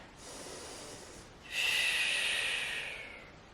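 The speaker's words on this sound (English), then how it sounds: "Big body breath." A deep, full-body breath during an intermediate movement flow workout: a soft airy inhale, then a louder, longer breathy exhale that fades out, close and alone.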